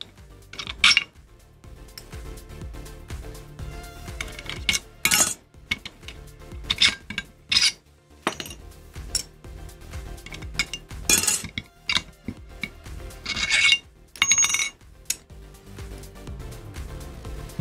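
Plastic platter separators from a 15K Cheetah hard drive being pressed together, giving sharp, bright clicks and clinks in scattered bursts, close and fairly loud, with quiet pauses between them.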